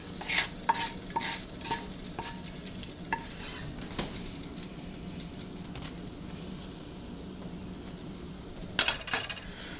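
Bacon fries in a pan for an omelet with a faint, steady sizzle under repeated clinks and scrapes of a utensil against the pan, some sharper taps standing out.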